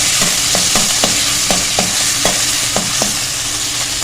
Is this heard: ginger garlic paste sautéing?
yes